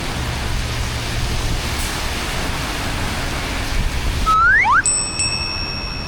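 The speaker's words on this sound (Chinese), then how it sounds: "要下大雨了" Heavy tropical rain pours in a dense, steady hiss in Pontian, Malaysia, then a few bright electronic chimes and rising tones ring out near the end.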